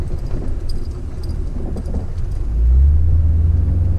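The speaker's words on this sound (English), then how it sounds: "His car is fucking fast." A fast car, a G8, roars past nearby with a heavy low rumble that swells and stays loud toward the end, with no talking.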